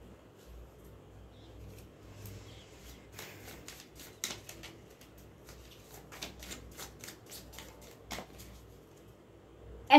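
A deck of cards being shuffled close by, a quiet rapid riffle of flicking cards building in the middle, with a louder snap at the very end.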